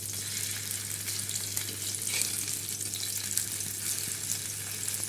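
Paneer frying in a shallow pan sends up a dense, continuous hiss of hot oil, steady and fairly loud throughout, with a low hum running underneath.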